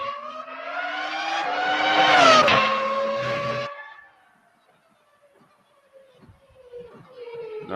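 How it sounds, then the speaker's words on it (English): Old-school V10 racing engine from a Super GT–style race car, a loud, near, high-revving wail that climbs and sweeps through gears for several seconds, cuts out into near silence, then returns faintly revving near the end. "old school V10 sound? It must be some series that he's racing that has that sound."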